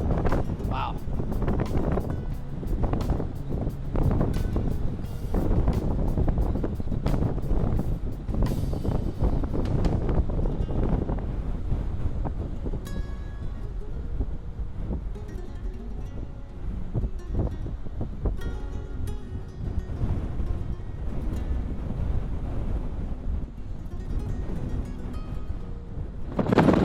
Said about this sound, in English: It's just a constant roar out here from the surf and the wind blowing at you.